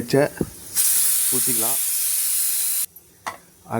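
A loud, steady hiss of ground coconut and tomato sauce sizzling in a hot kadai lasts about two seconds, with a voice speaking before and after.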